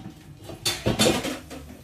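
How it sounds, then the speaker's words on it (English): A metal pot lid lifted off while dinner is served, a few quick clanks and scrapes of cookware close by, with a brief rattle at the end and no voices. "Take the lid off."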